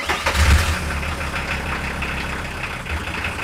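Starter motor cranking the engine of a 1993 Volkswagen T4 van, a close, continuous churning with a heavy thump at the start and an even mechanical rhythm throughout, no voices.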